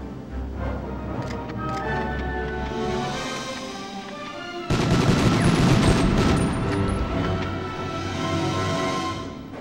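Medal of Honor gameplay gunfire: dense, continuous bursts of rapid shots and machine-gun rattle, loud and close, getting heavier and louder about halfway through and continuing without a break.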